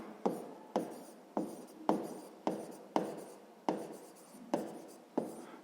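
A pen writing on paper, close and quiet, in a series of about ten short scratchy strokes at a fairly even rhythm, each starting with a sharp touch and trailing off.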